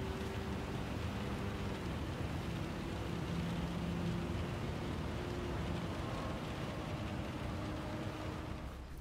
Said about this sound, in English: you can actually hear the rain pouring on top of the car when racing in wet conditions